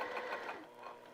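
A sewing machine stitches a repair on a heart-shaped potholder, a rapid, close mechanical whirring buzz that runs continuously for about a second before easing slightly.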